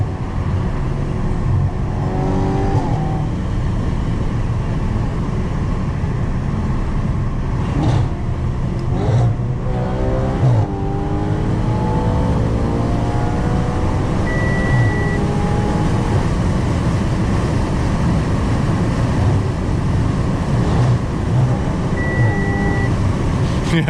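An Audi RS5's 4.2L V8 drones loudly and steadily from inside the cabin on a night drive, its tone rising and falling through gear changes, with voices talking over it in places.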